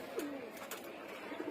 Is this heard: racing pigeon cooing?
yes